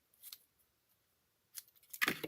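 Scissors snip through a piece of ribbon in a few quiet, crisp cuts close by: one early snip, then a short pause before a quick cluster of sharper cuts.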